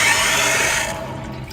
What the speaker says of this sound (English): I'm going to turn the water back on. That will allow the water to actually come into the tank and start to flush that out.